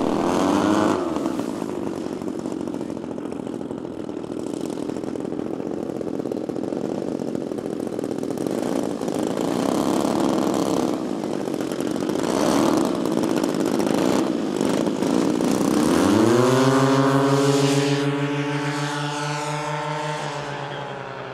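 An 81-inch radio-controlled model Mosquito PR.XVI runs its twin engines through a takeoff, a loud continuous buzzing drone that rises sharply in pitch near the end as the throttle opens, with no talk over it.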